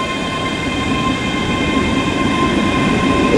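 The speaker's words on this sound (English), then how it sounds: "is a Scotrail service to Lanark" A Scotrail train departs Glasgow Central station with a loud, steady rumble and a sustained high whine or tone over it, close by and with no voices.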